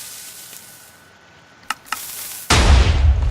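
TNT cannon firing in Minecraft: after a quiet stretch, two sharp pops lead into a sudden loud, roaring blast that sustains to the end.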